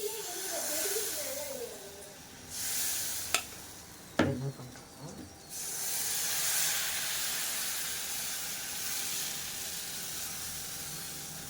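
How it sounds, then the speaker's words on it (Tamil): Appam batter poured into a hot pan gives a steady hiss and sizzle that swells, is broken by a couple of sharp clanks from the pan, then settles into a continuous frying hiss. "இதை அப்படியே ஊற்றிட்டு இன்னொரு ஆப்பம் ஊற்றி காட்டுறேன்"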